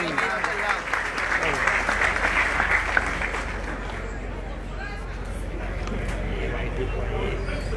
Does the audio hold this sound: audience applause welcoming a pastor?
yes